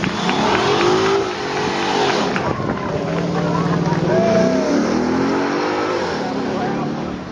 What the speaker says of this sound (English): Lovely burnout.